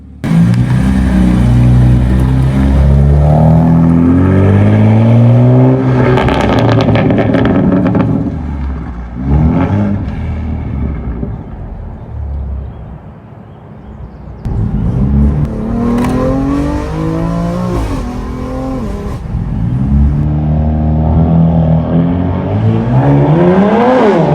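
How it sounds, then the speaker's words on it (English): A BMW F80 M3 Competition with a straight-piped exhaust, equal-length midpipe and downpipes, revs loudly and close up, its engine note repeatedly climbing and falling in long, aggressive sweeps with no talking. "Let me know what you think to the sound of the car."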